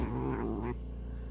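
A female cat lets out a short, strained growling yowl while her back is being scratched, close and clear, cutting off abruptly into a quiet room hum.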